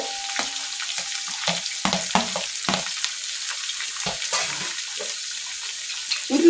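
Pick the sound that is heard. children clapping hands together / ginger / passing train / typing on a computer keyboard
ginger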